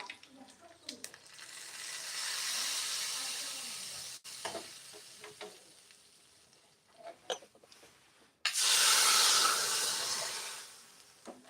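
Tempering sizzling in a hot pan for guava leaf tambli, a North Kannada dish, with loud bursts of frying hiss and crackle between quieter stretches, plus a few clinks, no talking.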